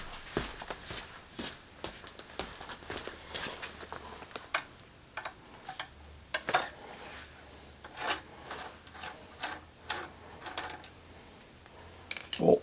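Metal bolt being worked loose and pulled from an exhaust baffle on a CFMOTO IBEX 450 MT motorcycle, a run of small sharp clicks and metallic taps scattered irregularly at close range.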